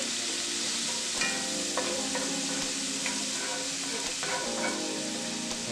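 Minced garlic frying in a pan, browning in hot oil with a continuous loud sizzle and a few brief clinks of a utensil stirring, no voices.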